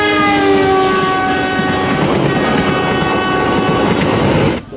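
A train passes close by with its horn sounding in long steady blasts over the rolling rumble of the cars, loud throughout before cutting off abruptly at the end.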